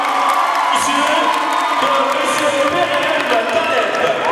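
Health students at a university orientation day cheer and acclaim, a loud crowd of whoops, shouts and yells sustained throughout, with voices mixed into the roar.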